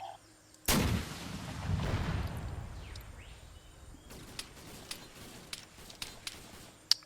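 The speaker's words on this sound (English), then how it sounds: "Start using some explosives to create some bombardment." Explosive bombardment in an Arma 3 Vietnam-era battle: a heavy blast booms out and rumbles away, followed by a string of sharp, scattered gunshots cracking at irregular intervals.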